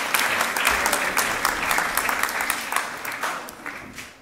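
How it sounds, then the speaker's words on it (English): Audience applause at a FameLab science communication event in Prague, a dense, steady burst of clapping from a full room that carries on for several seconds before gradually thinning toward the end. "give a round of applause, please, to our talker"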